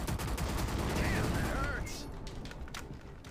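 Rapid bursts of gunfire-like weapon attacks in a video game rattle loudly, then tail off into a sweeping effect and quieter crackle, with a voice talking over it.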